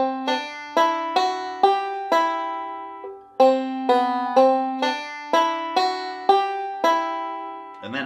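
A bluegrass banjo picks a melodic lick alone, bright plucked notes ringing out in a steady rolling rhythm with a short pause midway, close and clear.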